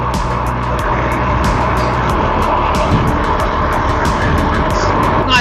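Electric fatbike running on throttle alone at around 55 kph, a steady loud rush of wind and motor whine with tire roar, continuous and close throughout.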